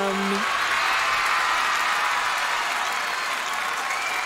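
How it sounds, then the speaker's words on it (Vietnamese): A school dance-challenge audience applauds in a dense, steady wash of clapping that fills the whole stretch, with a brief tone at the start. "tất cả khán giả đang vỗ tay cho mình"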